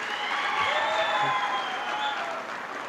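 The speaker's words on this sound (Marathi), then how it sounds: "या सर्वांसाठी जोरदार टाळ्या होऊ देत" An audience claps steadily for a factory's teams at a company Founder's Day event. The applause is dense and sustained with some crowd noise and lasts about three seconds.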